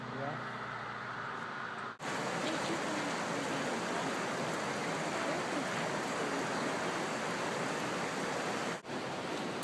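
Steady roar of the waterfall and river at Lower Yosemite Falls in April, a dense, loud, even rush of water with two brief dips.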